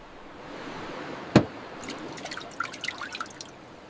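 Water dripping from a makeshift still at night, one clear drop followed by a scattering of small splashes and trickles over a steady low background hiss, close and fairly faint.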